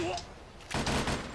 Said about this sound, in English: Oh, right, so triangle is shooting